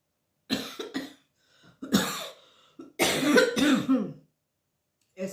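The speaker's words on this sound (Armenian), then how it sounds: "մեկ հազում եմ, հիվանդ չեմ, բայց մեկ կոկորդս հազա բռնում" A person coughs in several harsh bursts, starting with a couple of short hacks, then a longer fit of throaty coughing with throat clearing, close and loud against silence.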